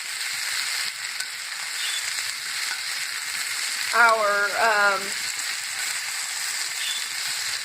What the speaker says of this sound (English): frying potatoes.